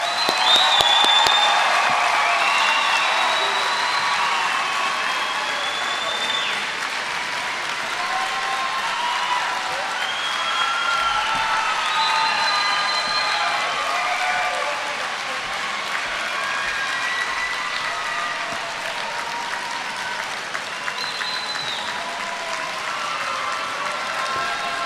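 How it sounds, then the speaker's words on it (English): Sustained applause from a large audience at a high school graduation ceremony, steady dense clapping filling the room for about twenty-five seconds with a few scattered cheers mixed in. "a huge round of applause for our graduating class"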